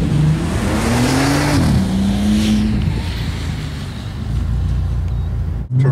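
A Bentley accelerating at full throttle on a track during a stability-control and braking exercise, with a loud, sustained engine roar whose pitch climbs and shifts, heard close and alone before a brief dip near the end.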